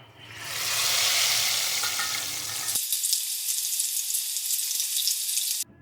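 Hot garlic tempering poured onto cooked black lentil dal hisses into a loud, bright sizzle that swells, then sharpens into a steady crackling fizz before cutting off abruptly, with no talking.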